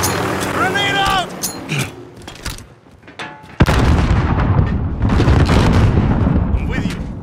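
A grenade explodes in a Modern Warfare team deathmatch as a sudden loud boom midway, followed by dense rumbling debris and gunfire. Voices shout over the action before the blast.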